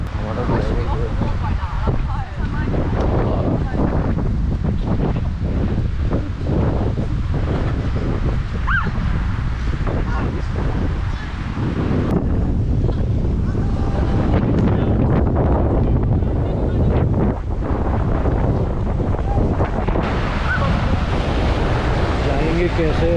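Strong wind buffets the microphone while choppy waves slap and surge around a small boat on an island tour at sea off Krabi, loud and constant, with people talking over the roar.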